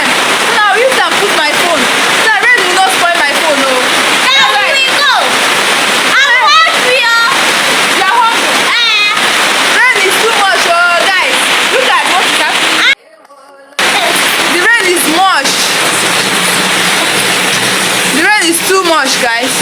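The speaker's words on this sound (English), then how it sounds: "the rain is too much" Heavy rain pours steadily in an African village, a loud, dense roar of falling water, briefly cut off for a moment, with voices speaking over it.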